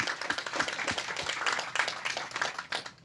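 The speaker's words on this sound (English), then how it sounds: "How about an applause for them?" An audience applauds a group of former students, a steady patter of many hands clapping at moderate distance that fills the whole stretch without pause.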